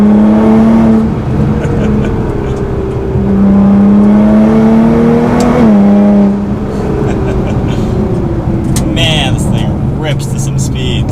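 A Nissan GT-R accelerating hard in first gear: a loud, close engine note climbs steadily in pitch, dips briefly around the middle, then pulls again with a sustained roar.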